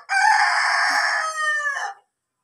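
A rooster at a house with chickens lets out one loud, close crow lasting about two seconds, a drawn-out call that fades at the end, with no talk.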